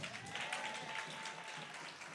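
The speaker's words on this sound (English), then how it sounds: "Clap it up one more time for my friends" Applause from a gathered audience at a community session, soft and steady with a scatter of claps and a faint crowd murmur behind it.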